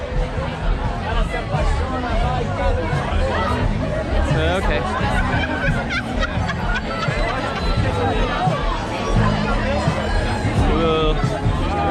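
A dense crowd chatters at the Lusofonia Festival in Macau on a Friday night, a steady babble of many voices close around, with a brief spoken aside.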